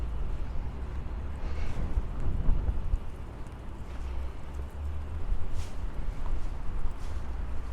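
Wind blowing steadily during a walk through a city street in Santa Fe, New Mexico, a continuous low rumbling buffet against the microphone that swells and eases, with no talking.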